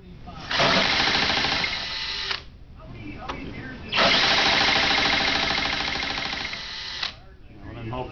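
A solar Stirling engine generator runs with a loud, steady mechanical whir in two long stretches, separated by a brief quieter lull.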